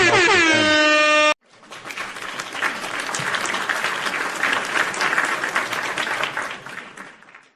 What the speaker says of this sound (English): air horns and round of applause for them